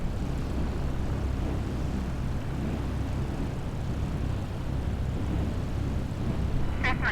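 A Cessna 172 taxis in MS Flight Simulator 2020, its engine giving a steady, moderate drone with a low rumble throughout and no talk over it.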